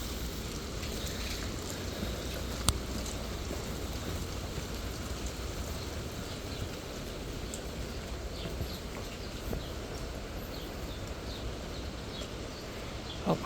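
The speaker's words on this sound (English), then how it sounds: "Yep, here comes the rain." Rain falls steadily outdoors at a mountain resort, a continuous soft hiss of drops on surfaces with a couple of brief louder taps, fairly faint and without talk.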